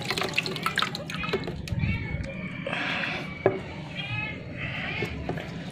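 Water splashing and trickling while a pet iguana is rinsed during its bath, with intermittent drips and knocks close by and a person speaking over it.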